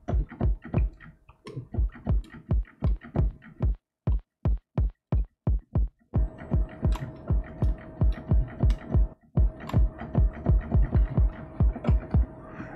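Kick drum sample with added distortion played repeatedly in an Arturia Emulator II, a fast run of punchy low thumps that pause briefly and then continue with a gritty, humming distorted tone, no voices.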